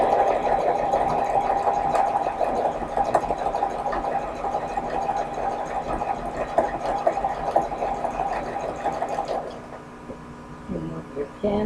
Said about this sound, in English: Let the sewing machine do the work for you.